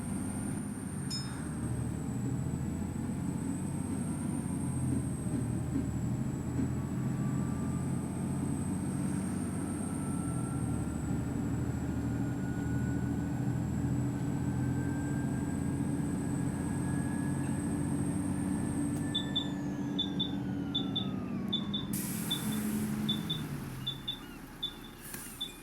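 A Volvo B7TL ALX400 double-decker bus in OMSI 2, driven on a Yorkshire route, droning at full throttle with a steady low engine roar and rising whine, then easing off near the end as a chiming tone repeats.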